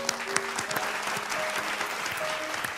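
Studio audience at a television show applauding loudly and steadily, a thick burst of clapping with a few faint tonal sounds mixed in underneath.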